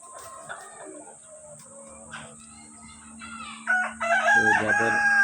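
A chicken clucks and chatters in short bursts, then a rooster lets out a loud, close crow near the end, with a steady hum in the background.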